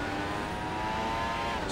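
A Formula 1 race car in the 2016 video game accelerates at full throttle, its high engine whine climbing steadily and loud throughout, with no voices.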